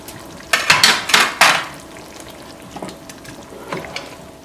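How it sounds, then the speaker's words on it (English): A knife roughly slicing a jalapeno pepper on a board while cooking bhagaray baingan, with a few sharp close chops in quick succession followed by softer scattered taps. "Right now I'm going to slice the jalapeno pepper roughly, just like so."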